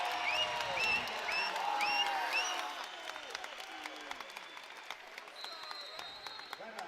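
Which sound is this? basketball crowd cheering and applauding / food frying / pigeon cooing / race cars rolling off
basketball crowd cheering and applauding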